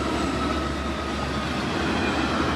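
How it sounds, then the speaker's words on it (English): Trains rolling through a station on a rail line, a steady loud rumble of wheels and railcars filling the whole stretch with no talk. "Here are the Green Bank L trains."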